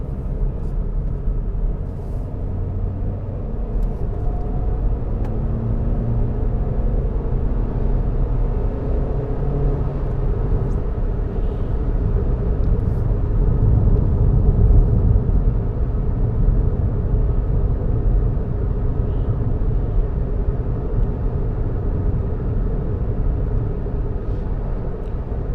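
A 2021 Suzuki Ignis on skinny tyres drives along a road, heard from inside as a steady, loud low rumble of engine and road noise that holds constant throughout with no talking.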